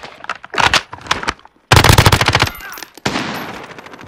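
Loud, close bursts of rapid automatic gunfire in Call of Duty, three separate volleys with brief pauses between them, the first sputtering and the later ones dense and sustained.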